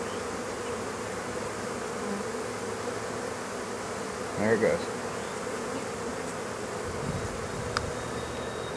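Steady buzzing of many honeybees droning close by while a swarm is installed in an 8-frame Langstroth medium hive, with a brief louder burst midway and a man's short remark over the hum.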